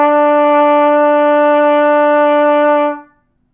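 A trumpet holds a single E, fingered with valves one and two, as a steady, bright, loud tone for about three seconds before cutting off cleanly, with no talking.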